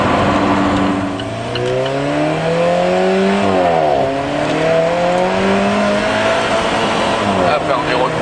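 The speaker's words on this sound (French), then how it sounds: "Ah, je monte à 90, là on a l'impression d'aller beaucoup plus vite." A powerful 2013 Alfa Romeo 4C Coupé engine revs and accelerates hard to about 90 km/h, its pitch climbing through gear changes, loud and close like from inside the cabin.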